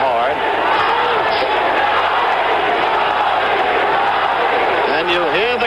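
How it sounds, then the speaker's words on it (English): A large arena crowd at a 1977 Maryland heavyweight boxing match featuring Muhammad Ali roars and chants in unison, loud and continuous, with a ringside commentator talking over the din. "you hear the crowd in unison chanting, Ali, Ali."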